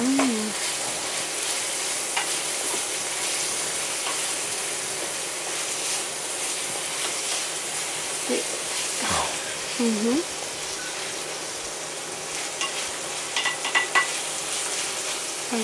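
Onions and peppers fry in oil in a pan with a dense, loud sizzle, while a spoon scrapes and stirs them at close range, with occasional brief voice sounds over it.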